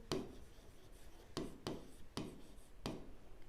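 Chalk or marker taps and scratches on a board while math is written, about five sharp strokes in a quiet room, faint and close.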